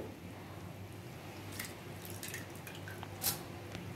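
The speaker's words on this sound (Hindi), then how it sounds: "और मैं एक जार में इसको धीरे धीरे निकाल के डाल दूंगी इस तरह से" Soaked rice is scooped and tipped slowly into a grinder jar for idli batter, giving a few soft wet plops and drips against quiet room tone, with one sharper splash near the end.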